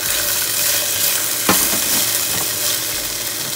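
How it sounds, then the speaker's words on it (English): Red bell pepper sautéing in a pan, a loud continuous sizzle and frying hiss with a brief clatter of stirring midway. "One thing we need to do is to saute a little bit of the red bell pepper."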